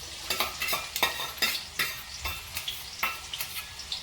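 Onions frying in hot oil with whole spices, crackling and sizzling while a spoon stirs and scrapes the pan in quick, uneven strokes, close and moderately loud with no talk.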